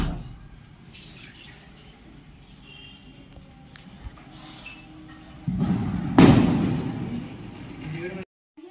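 Firecrackers bursting outdoors during a Diwali celebration at home, with a dull background of activity and a loud sharp bang near the end that rings off briefly.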